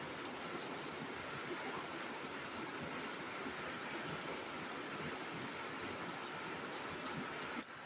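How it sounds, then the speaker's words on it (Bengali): Rain falling outside, a steady, even wash of dense hiss that holds constant throughout with no voices over it. "এই যে বাইরে বৃষ্টি হইতেছে, আমরা বৃষ্টি উপভোগ করতেছি।"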